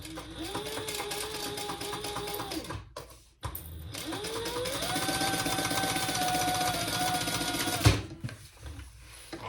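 A sewing machine runs steadily, sewing the sides of a slip pocket on a crossbody bag, with a whirring motor hum in two long runs separated by a brief pause, then stops with a clunk.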